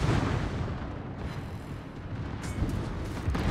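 Heavy armor-piercing bombs burst against a warship in a naval battle game, a dense low rumbling roar of explosions with a few sharper pops near the end.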